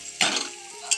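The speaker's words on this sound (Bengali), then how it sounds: "এবার আমি দিয়ে দিচ্ছি, দিয়ে আবারও ভালোভাবে নাড়াচাড়া করে নিচ্ছি।" Spice paste for a catla fish curry is stirred in a pan, with a scrape near the start and another near the end over a low background sizzle, close and fairly quiet.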